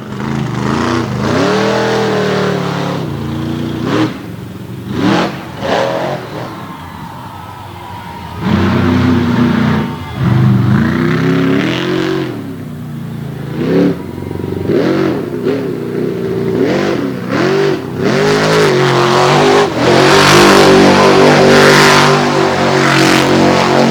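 A big black FTI Torque Ram monster truck roars through a freestyle run on a dirt arena floor, its engine revving loud and close in repeated surging bursts that rise and fall across the run.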